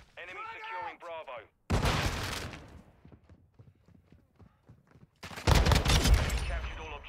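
TAQ 56 rifle fire in a video game: two loud sustained bursts of rapid automatic shots, with a voice talking briefly before the first burst and quieter movement sounds between them.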